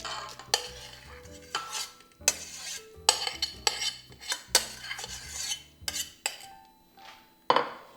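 Rice is stirred into milk in a pot for rice pudding: a spoon scrapes and clinks against the metal in repeated, uneven strokes, close and fairly loud, with short pauses between bursts.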